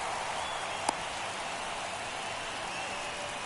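Steady rainfall in the MLB The Show 24 baseball video game, an even broadband hiss with no pauses, broken only by one brief sharp tick about a second in.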